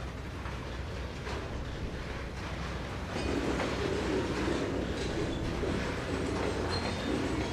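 A passenger train in the Trainz 2022 railway simulator rumbles along steadily with a continuous low roar and faint clacking of wheels, growing slightly louder partway through, with no talking.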